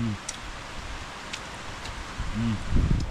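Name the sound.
rain falling outdoors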